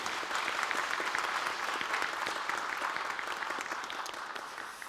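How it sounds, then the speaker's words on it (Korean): A church congregation claps together in warm, dense applause that holds steady for several seconds and then begins to taper off, filling a large room. "우리 격려의 박수 한번 하겠습니다"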